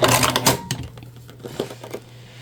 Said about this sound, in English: we're just going to go a couple over, back stitch